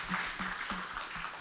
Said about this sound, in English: please give a round of applause for Kristen, Gunnar, and Terry